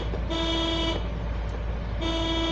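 Two firm car horn blasts ring out during a driving lesson, separated by about a second of engine and road rumble, loud and close with no voices.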